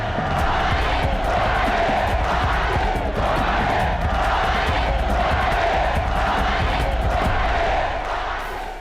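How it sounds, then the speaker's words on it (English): Huge boxing crowd at Muhammad Ali's fight against George Foreman chanting "Ali bumaye" in rhythmic repeated waves, a dense roaring mass of voices sustained throughout, loud and distant-sounding. "Muhammad got that Ali bumaye chant going right from the get-go."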